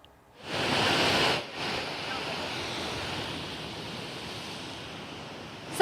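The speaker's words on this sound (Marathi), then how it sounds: "मुंबईमध्ये समुद्राला उधाण आल्याचं चित्र आहे" Heavy sea surf surging against the Mumbai shore at high tide during monsoon rain, a loud broadband roar that swells in the first second, then settles into a steady rushing wash.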